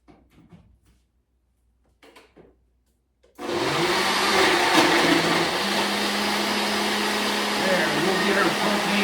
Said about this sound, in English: get my blender going